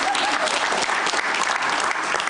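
Studio audience bursts into steady, dense applause on a Georgian late-night talk show, a full room clapping loudly and evenly throughout with no break.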